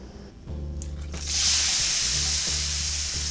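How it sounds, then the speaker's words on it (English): Shrimp drop into a hot pan and the low frying bubble bursts into a loud, broad sizzle that holds steady for the rest of the clip, close up with no talking. "Now we're just gonna add our shrimp to the pan."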